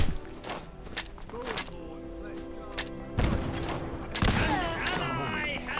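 Gunfire in the Fallout London full conversion mod: repeated sharp shots and heavy thumps in an irregular barrage, loud and close, with combat clatter and a brief voice between bursts.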